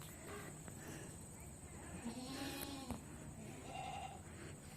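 A young goat bleating when picked up, a couple of short nasal bleats at close range, partly overlapping with a person speaking nearby.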